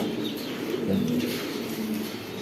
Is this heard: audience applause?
no